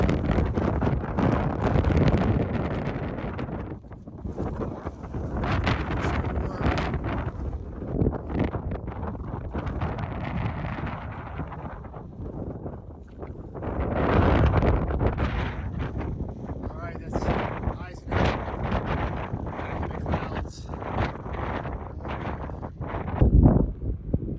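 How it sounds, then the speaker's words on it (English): Strong wind buffets the microphone on a mountain summit in the Presidential Range, a loud, continuous roar that swells and eases in gusts for the whole stretch, with no voices heard. "The wind's still blowing"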